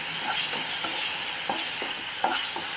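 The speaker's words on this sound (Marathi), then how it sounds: "मिश्रण थोडं घट्ट होईपर्यंत आपल्याला परतून घ्यायचं आहे" Mango barfi mixture made from fresh mango pulp is stirred in a pan over a low flame, with rhythmic scraping strokes every half second or so over a constant soft sizzle and no talking.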